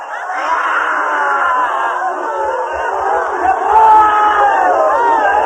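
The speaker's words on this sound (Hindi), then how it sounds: "छोड़ें, बिल्कुल पागल हो जाएं, चिल्लाएं, नाचें, हंसें, रोएं।" A crowd of people screams and wails together during a dynamic meditation session, a loud sustained mass of overlapping cries that swells near the end, with faint low thumps beneath.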